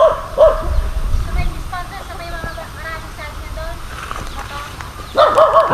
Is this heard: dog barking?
yes